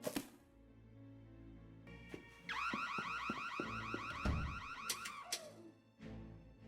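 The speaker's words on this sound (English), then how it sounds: "I could have sworn I heard the alarm go off." An alarm going off in the Nancy Drew game Secrets Can Kill, with a rapid warbling electronic tone sounding for a few seconds amid dull thuds, fairly quiet and with no talking.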